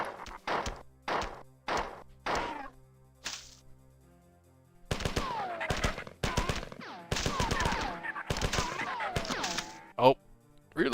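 Gunfire in the classic Marathon video game: a run of sharp, evenly spaced shots, then a pause and a denser burst of rapid firing, loud and close, with a player talking over parts of it.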